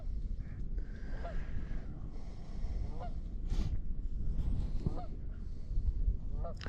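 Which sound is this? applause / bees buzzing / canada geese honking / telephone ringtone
canada geese honking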